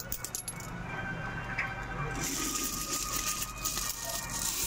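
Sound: saved coins being poured out

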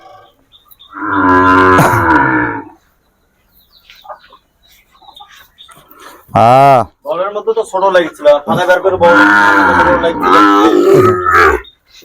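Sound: Sahiwal cattle mooing and grunting

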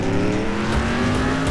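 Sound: fastest car engine revving in Next Car Game video game

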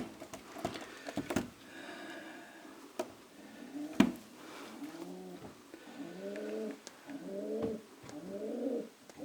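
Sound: pigeons cooing

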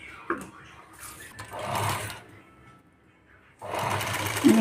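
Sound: sewing machine stitching potli buttons on blouse

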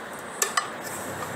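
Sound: pot handle being handled and tightened

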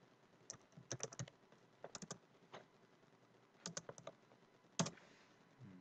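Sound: typing the word informaticien on a computer keyboard

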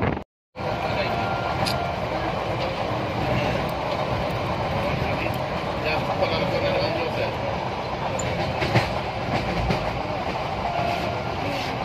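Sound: arriving passenger train

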